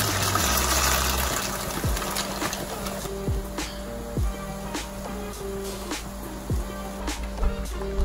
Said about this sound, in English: let's get the pasta in the water.